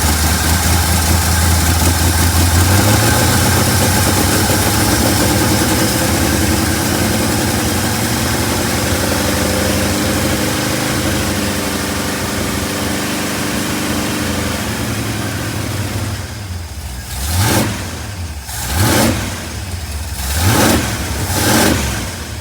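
A 1958 Ford F100 truck engine runs steadily at a loud, close idle, then gets several sharp revs near the end, each rising and falling quickly, with no talking.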